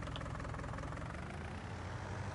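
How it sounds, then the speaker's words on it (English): A tractor engine idles in Farming Simulator 19 with a low, steady diesel rumble and a slight knock. It is faint and continuous, with no voices over it. "Start this tractor up"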